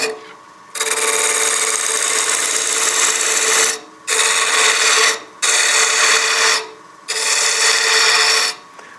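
Wood lathe with a gouge cutting away bulk material from a spinning witch block head, a loud continuous rasping hiss in three long bursts separated by short pauses.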